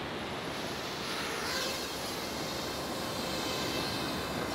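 An FPV drone lifts off and flies, its steady broadband whirring drone filling the scene at close range throughout, with a slight swell in intensity after takeoff and no voices.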